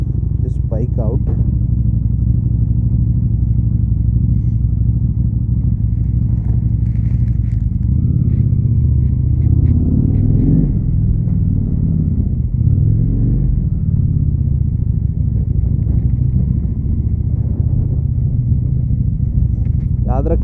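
A Harley-Davidson motorcycle engine runs after a cold start with a low, steady rumble that holds close and continuous the whole time. Someone speaks over the engine sound.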